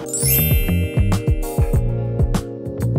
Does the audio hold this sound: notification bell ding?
yes